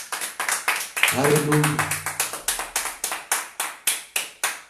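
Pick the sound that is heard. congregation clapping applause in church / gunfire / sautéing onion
congregation clapping applause in church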